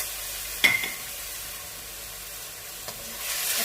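Ingredients for chicken and vegetable creamy pasta fry in a pan with a soft continuous sizzle, broken by a couple of sharp clinks of a spoon stirring against the pan.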